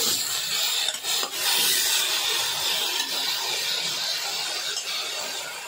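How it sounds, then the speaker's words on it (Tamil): Vegetables sautéing in a pan with asafoetida and turmeric, a steady bright sizzling hiss with scraping stir strokes, close and continuous without talk. "இதில் வந்து கொஞ்சம் பெருங்காயம், மஞ்சத்தூள், காய்கறி நல்லா வதக்கிக்குவோம்."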